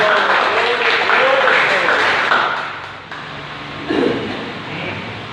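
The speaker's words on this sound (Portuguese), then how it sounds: "Vamos aplaudir o Senhor" Congregation applauding at an evening church seminar, a broad wash of clapping that fills the room and then thins out, heard alongside voices and a sung or spoken tone.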